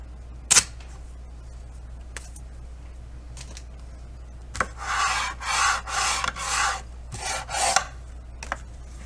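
Paper folds pressed and rubbed with a burnishing tool along the quarter-inch spine of a handmade folio journal: a sharp tap, then a run of five or six scraping strokes in quick rhythm, close and fairly loud.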